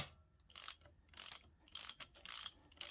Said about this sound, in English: Now I needed the flywheel removal tool. Bit of gentle persuasion.